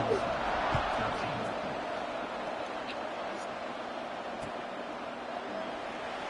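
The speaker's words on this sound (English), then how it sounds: "this crowd is buzzing after that last score" Stadium crowd in the Madden 26 football video game, a steady dense roar of many voices sustained throughout at moderate level, with faint scattered thuds and calls within the wash.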